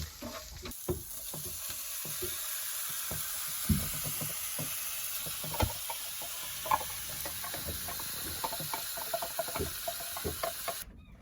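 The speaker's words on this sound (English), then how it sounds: "And now the dinner is cooking." Dinner fries on a stove aboard a sailing boat, giving a steady loud sizzle with scattered clicks and scrapes of stirring, no voices.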